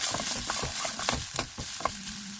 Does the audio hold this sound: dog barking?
no